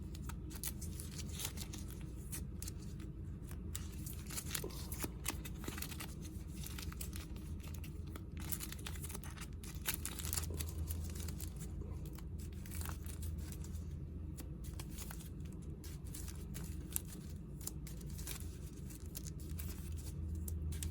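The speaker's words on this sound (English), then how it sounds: "Okay, so let's shuffle." Deck of Red Rising board game cards shuffled during a solo setup, a steady papery riffle and patter of card stock that runs for about twenty seconds, close and fairly quiet with no talking.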